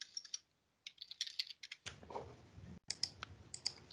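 Clattering keystrokes on a computer keyboard come in short bursts with brief pauses, close and fairly quiet, during an Excel basics tutorial.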